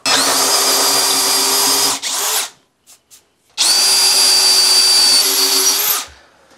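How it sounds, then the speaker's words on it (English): A combi drill runs loud and steady for about two seconds, stops briefly with a couple of short blips, then runs again for over two seconds before winding down, working at a toilet. "this is actually a combi drill"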